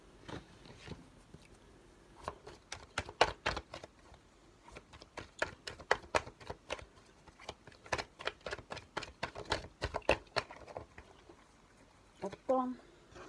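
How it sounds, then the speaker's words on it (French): Tarot cards being shuffled and drawn, a close run of soft, irregular papery taps and flicks, quiet and dry, with brief pauses between clusters. "Je vais juste tirer 3 cartes de la triade."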